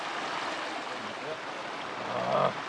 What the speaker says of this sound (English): And we're right next to this river too, so that's handy. The sound of the river will soothe us to sleep.